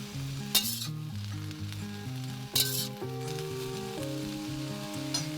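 Cabbage stir-frying in a wok, a steady loud sizzle with a few sharp tossing bursts, under continuous background music.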